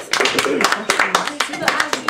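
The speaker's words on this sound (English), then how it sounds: "Let's give a round of applause." Audience applause following a persuasive speech in a school speaking event, dense crowd clapping with irregular louder peaks, close and steady throughout.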